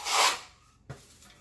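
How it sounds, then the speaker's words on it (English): A trowel scrapes drywall mud off a wall patch in one short, close rasping stroke, followed by a faint soft knock. "I'm gonna scrape it off again. Keeping my trowel angled up so I don't lose all the mud."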